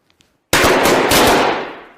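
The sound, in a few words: balloons popping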